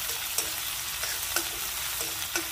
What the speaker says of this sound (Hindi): अब हम प्याज को 2 मिनट तक भूनेंगे